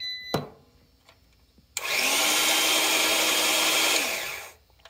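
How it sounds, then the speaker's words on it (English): An electric drill bit sharpener runs on battery backup power. After a click, it gives one loud, steady, blender-like whir for about three seconds, then winds down. "I've got this drill sharpener because it was right there"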